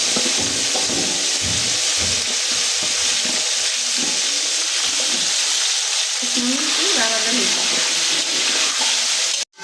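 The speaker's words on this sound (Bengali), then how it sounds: "আমার সবজি ভাজা হয়ে গেছে।" Mixed vegetables fry and stir in a pan for a beef khichuri, giving a steady broadband sizzle with scraping stirs and clatter throughout, loud and close, cutting off abruptly at the end.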